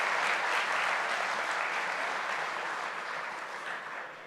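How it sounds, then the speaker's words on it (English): Steady applause from an audience at an evening alumni awards ceremony, thanking the sponsors, with dense continuous clapping that stays loud and slowly eases off over several seconds. "Please give a big round of applause to all of our sponsors this evening"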